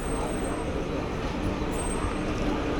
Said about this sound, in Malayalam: നമ്മുടെ പ്ലാറ്റ്ഫോം 7 ഏതോ ഒരു ലോങ് ഡിസ്റ്റൻസ് ട്രെയിൻ കയറി വരുന്നുണ്ട്